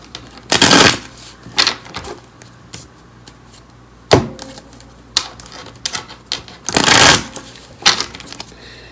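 Tarot cards, a Morgan-Greer deck, riffled and shuffled in bursts, with crisp rapid flutters separated by quieter handling and taps close to the listener.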